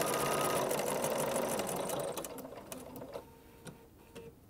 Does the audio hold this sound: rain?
no